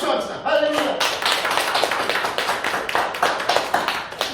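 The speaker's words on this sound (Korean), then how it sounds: "우리 박수 합시다" A church congregation at a Sunday service claps in a dense, sustained burst of applause that runs throughout, with voices speaking at the start.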